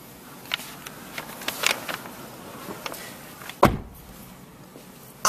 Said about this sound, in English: would you close that door for me?